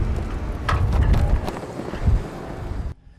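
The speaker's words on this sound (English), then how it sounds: "High wind gusts channeling between downtown buildings at near hurricane force." Strong, near-hurricane-force wind gusting between downtown buildings, a loud rushing roar buffeting the microphone in uneven surges before cutting off abruptly.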